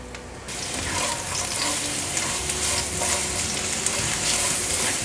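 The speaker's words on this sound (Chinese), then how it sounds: "锅内倒入少许的油，放入红萝卜和红喜菇" Carrots and shiitake-style red mushrooms sizzle and crackle steadily in hot oil in a wok, a dense, close frying hiss with faint stirring throughout and no voices.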